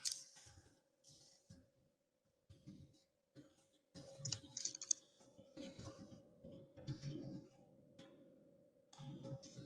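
Bursts of quick clicking keystrokes on a computer keyboard, quiet and close, separated by brief pauses, with a faint steady hum underneath.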